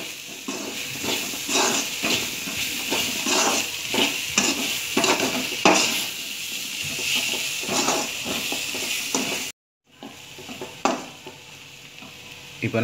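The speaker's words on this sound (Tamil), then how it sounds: "முள்ளங்கி போட்டுட்டு நல்லா கிளறி விட்டுக்கோங்க." Chopped radish is stirred with masala in a hot pan for Tamil radish sambar, a continuous scraping and rustling over a steady sizzle, close and fairly loud, with a brief pause near the end.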